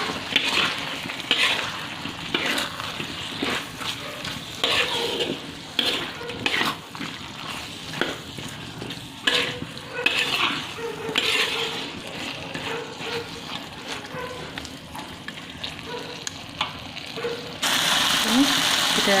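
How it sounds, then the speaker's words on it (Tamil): Fried tempeh and potatoes are tossed back into a pan for varuval and stirred, with repeated rhythmic scraping and clacking over a low sizzle. "போட்டு நல்லா கிளறிடலாம்."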